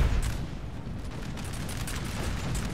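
Massed cannon and musket volleys in the Napoleonic battle game Napoleon: Total War at Waterloo, a dense continuous rumble of distant gunfire with a heavier boom at the start.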